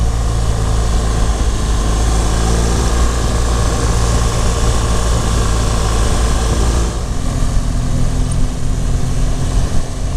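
A BMW GS1200 motorcycle engine runs steadily while riding on a road, a loud continuous drone with wind rush that holds constant throughout, easing slightly near the end.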